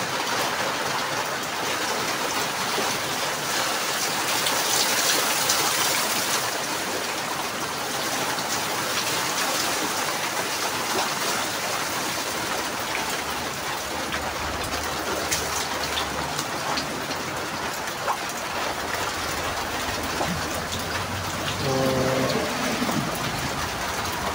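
Steady rain falling outdoors during a typhoon in the Philippines, a continuous even hiss of drops on surfaces with faint background sounds, no talking.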